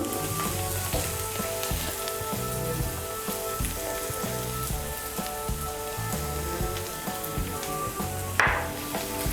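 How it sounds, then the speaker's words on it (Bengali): Spice paste for an egg curry fries in oil in a pan, a dense, steady sizzle with a brief clatter near the end, close and loud with no voices. "মিশিয়ে নিয়ে মশলাটাকে আরেকটু কষিয়ে নেব"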